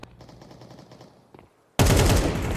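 Bursts of rapid gunfire in the Counter-Strike esports match: a muffled volley of quick shots, a short lull, then a sudden loud, dense barrage that fills the rest of the moment.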